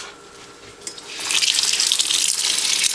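Running tap water pours over dyed wool and acrylic yarn being rinsed, starting quiet and then rushing into a steady, bright splashing stream close by.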